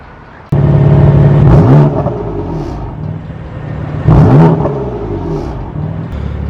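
A BMW M4 engine starts abruptly and idles with a deep rumble, giving two sharp revs that rise and fall, loud and close, with no talking.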